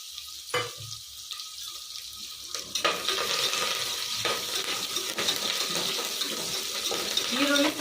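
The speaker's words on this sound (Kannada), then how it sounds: "ಸ್ವಲ್ಪ ಎಣ್ಣೆ ಕಾಯಬೇಕು ಈಗ ಸಾಸಿವೆ ಜೀರಿಗೆ ಸಿಡಿತಾ ಇದೆ ಈರುಳ್ಳಿ ಹಾಕೊತಾ ಇದ್ದೀನಿ ಕರಿಬೇವು ಹಾಕೊಂಡ್ಬಿಡ್ತೀನಿ" Onions and curry leaves fry in hot oil with spluttering mustard and cumin seeds, a dense continuous sizzle with crackles that swells as they go in; a voice speaks over it.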